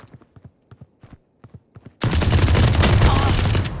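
Dense video game gunfire bursts in suddenly and keeps going as a loud, continuous fusillade. It follows a sparse run of soft, regular thuds like footsteps.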